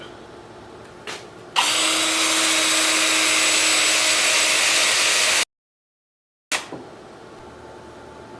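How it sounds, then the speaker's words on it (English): A power sander working the bottom of a turned alder bowl in a woodshop, a loud steady whir that starts abruptly, runs for about four seconds, then cuts off to silence before faint handling sounds return. "I'll get that sanded up."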